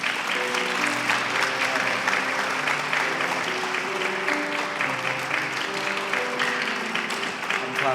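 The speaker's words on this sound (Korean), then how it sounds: "큰 박수를 부탁드립니다" A congregation applauds loudly and continuously at a church retirement and ordination ceremony, with steady, dense clapping over soft sustained music.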